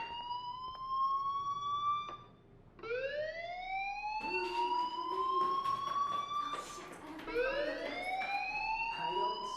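A fire alarm wails inside the Life Is Strange video game, its rising tone sweeping up in repeated cycles, with a brief dip before each new rise. The alarm is clear and sustained, and nobody speaks over it.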